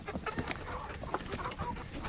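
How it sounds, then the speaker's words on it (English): Free-range chickens clucking and squawking close by on a cold Arkansas farm morning, their short, busy calls overlapping in an excitable flurry. "Crazy chickens."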